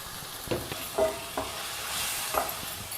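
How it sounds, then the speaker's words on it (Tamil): Food sizzles in a hot pan while thick blended spinach puree for palak paneer is poured in and stirred, with a few soft scraping thuds. "அடுத்தது நம்ம அரைச்சி வச்ச இந்த பாலக் இருக்குல்ல, கீரை, அதை ஊற்றிக்கணும்."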